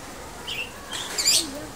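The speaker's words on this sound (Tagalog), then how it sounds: "Yan, ang dami nilang lovebirds." Lovebirds chirp in an outdoor garden, giving a few short, high tweets spread over a couple of seconds at moderate distance against a soft background.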